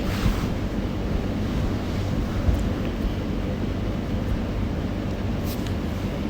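Mutton pieces coated in yogurt fry in a pot for korma, giving off a steady, close, broadband sizzle that holds evenly from start to finish.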